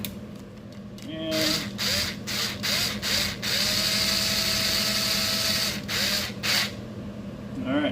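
A power tool whirs in repeated short bursts and then a longer sustained run, loud and close, with whining pitch changes as it spins up and down, while installing valve springs on a Subaru EJ207 engine.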